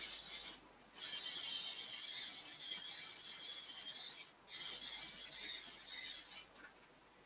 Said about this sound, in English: I'm just going to quickly put some sand and sealer on the top